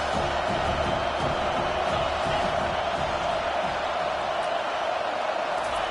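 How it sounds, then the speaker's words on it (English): A packed stadium crowd roars during a third-down defensive stand in a College Football 25 game between Clemson and Penn State, a loud, continuous wall of cheering and yelling with no break. "this crowd will blow out a vocal cord to help this defense"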